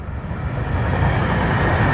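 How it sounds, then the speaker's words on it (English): Broad, rising rumble and roar of a train approaching on nearby tracks, loud and continuous, with a faint high whine coming off the rails. "you can hear a little whine from the tracks as a train comes at me from behind"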